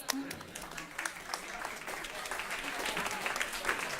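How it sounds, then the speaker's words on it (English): Applause from a conference audience after a panel on food security and climate extremes: scattered then fuller clapping from a moderate crowd, fairly quiet and building slightly toward the end, with a few voices underneath. "Round of applause."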